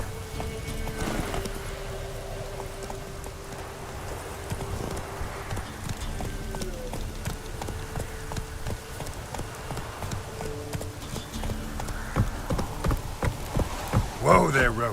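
Roach, Geralt's horse in The Witcher 3, gallops in steady rhythmic hoofbeats close by, with occasional snorts and game music beneath and a burst of louder clatter near the end.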